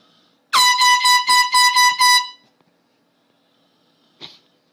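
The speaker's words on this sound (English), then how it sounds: "Airhorn." An air horn blares in six quick, loud, rhythmic blasts close to the microphone, followed by near silence and a brief faint squeak at the end.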